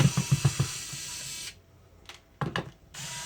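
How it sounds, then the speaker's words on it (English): A handheld screwdriver ratchets in quick clicks at the start, followed by a pause and a few sharp clicks and rattles while a game console case is being unscrewed to open it. "I love this screwdriver, man."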